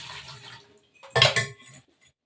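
Dishes being washed by hand on a cold rainy winter day: a soft clink and water splash, then a louder clatter of pots and utensils followed by dripping, close and without talk.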